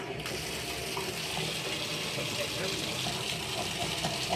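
Water from a hotel shower at a Holiday Inn Express in Alexandria, Virginia runs steadily in a continuous hiss, close and fairly loud, with a person talking over it.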